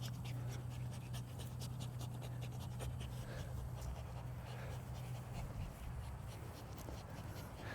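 A young pitbull puppy pants steadily and rapidly close by, a continuous breathy rhythm with no voices.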